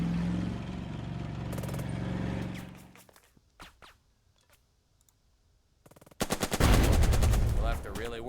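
Gunfire from a Sherman tank in the WWII strategy game Burden of Command, sharp shot bursts and clicks followed by a loud close blast near the end, no talk heard.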